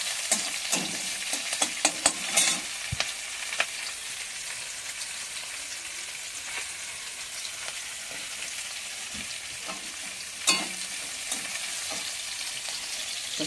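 Onion and panch phoron sizzle in a small iron wok, a steady close hiss broken by sharp crackles and spatters, with occasional louder pops. No one speaks.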